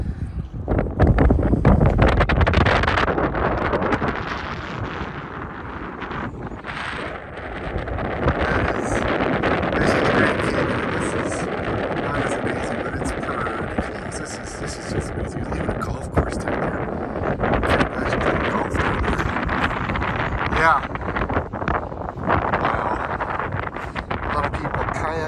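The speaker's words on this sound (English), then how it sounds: "it's really windy" Strong wind roars steadily across the microphone at a scenic overlook on a Tesla Model Y road trip, with a voice speaking through the gusts.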